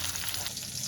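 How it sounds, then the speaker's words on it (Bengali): Pieces of katla fish fry in hot oil in a pan, browning to a light reddish colour, with a close, steady, crackling sizzle throughout. "এইভাবেই হালকা লাল করে আমি ভেজে নেব"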